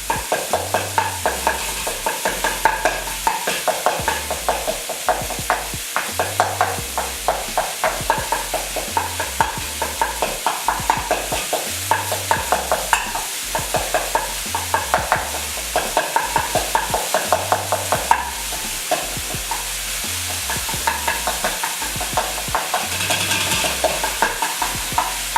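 Ground beef sizzles steadily and loudly in a frying pan for low-carb tacos while a utensil stabs and scrapes to break it up, giving constant hiss with rhythmic knocking and stirring throughout.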